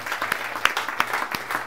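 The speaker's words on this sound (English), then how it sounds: "So give an applause for Karl." Applause from an audience at a smart city conference opening session as a guest is called up, a steady wash of many hands clapping throughout with a few louder individual claps standing out.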